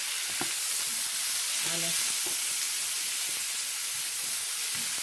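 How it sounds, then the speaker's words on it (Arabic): Onion and garlic sauté in a pan with tomatoes and peppers, giving a continuous hissing sizzle with faint stirring knocks, while a voice says a brief word over it. "هنا هو شوح البصل والثوم"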